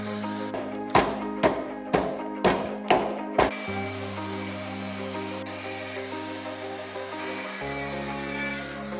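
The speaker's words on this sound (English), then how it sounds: "So we're going to get back to notching." Notching lumber for a door brace on a mountain home build: five close, rhythmic rasping saw strokes, then a steady droning tool hum that shifts pitch partway through.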